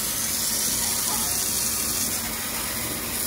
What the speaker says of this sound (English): Now, we grab our water hose, fam. We put it on jet.